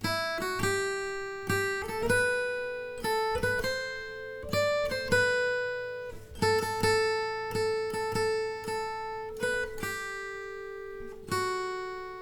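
A single guitar plays a simple melody, one plucked note at a time, each ringing briefly before the next, clear and close.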